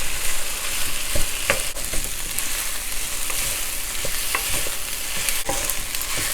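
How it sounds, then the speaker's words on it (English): Ham kimchi fried rice crackles loudly in a frying pan as it is mixed and broken up, with a dense continuous sizzle and scattered sharp clicks of a spatula against the pan, no speech. "continue mixing and breaking the rice so everything is nicely separated"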